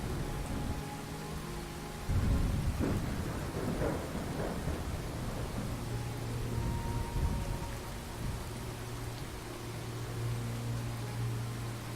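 Rolling thunder rumbles over steady heavy rain during a video game storm scene, the low booms building in the first seconds and then fading under the continuous hiss of rainfall.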